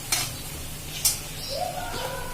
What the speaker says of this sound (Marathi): आता आपल्याला हा मसाला बारीक केलेला आहे तो घालायचा आहे तो तेलामध्ये छान परतून घ्यायचा आहे